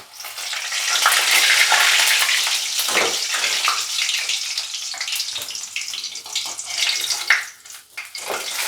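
Pieces of chitol fish frying in a pan, a loud, steady, hissing sizzle lasting throughout with small crackles and brief dips, no voices.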